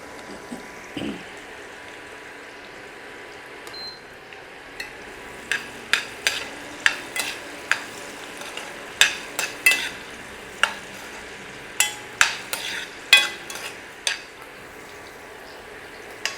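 Onions and green chillies frying in already-hot oil with cumin in a kadai: a low steady sizzle under a run of sharp, regular spatula clacks against the pan, close by, with no voices.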